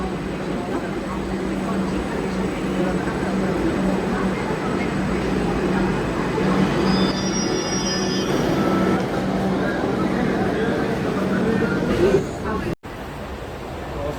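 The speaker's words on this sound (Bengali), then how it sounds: "তো ফাইনালি আমাদের মেট্রো চলে আসলো" A metro train rumbles steadily into a station, its loud mechanical roar mixed with crowd murmur and faint high-pitched whines, then cutting off abruptly near the end.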